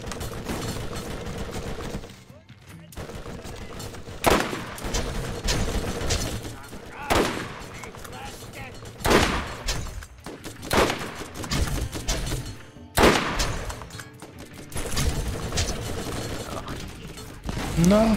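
Repeated bursts of gunfire in the video game Borderlands, loud sharp shots and short volleys spread across the stretch with brief gaps and mechanical reload clatter between them.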